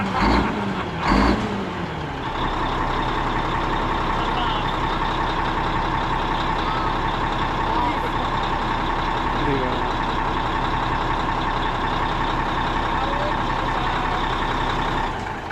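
A truck engine idles steadily at an outdoor truck show, a low continuous rumble with a faint repeating reversing beep, and people talk briefly at the start.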